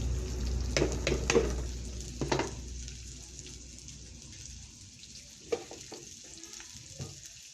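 Chopped onions and chillies frying in hot oil for chickpea bhuna, giving a steady close sizzle broken by several sharp stirring scrapes and clinks, with no talking.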